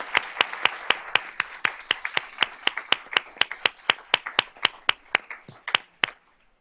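Rhythmic, evenly spaced sharp claps, about three or four per second, close and fairly loud, following a board of trustees meeting's recognition of award-winning students, with no talk over them.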